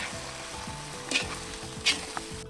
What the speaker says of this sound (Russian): И перемешиваем все наши овощи еще раз.